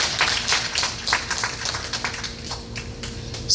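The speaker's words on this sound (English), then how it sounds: "I thought you guys are going to clap for me." An audience at an Adire Night cultural celebration claps steadily, a moderate patter of hands heard from across the hall.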